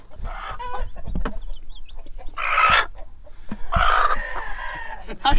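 Chickens cluck and squawk close by in a backyard coop, bursts of loud agitated calls among rustling and clatter, with occasional faint movement noise between them.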